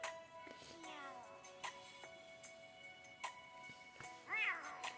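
A small Pokémon kitten, Litten, meows several times in the Detective Pikachu 3DS game, short rising calls spread across quiet background music, with a final louder meow near the end.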